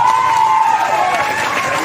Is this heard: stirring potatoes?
no